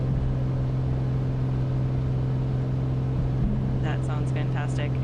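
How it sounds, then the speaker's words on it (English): Aircraft engines at takeoff power in Microsoft Flight Simulator 2024 give a steady, loud, continuous drone with a low hum running throughout, and a voice briefly appears near the end. "Listen to those engines purr."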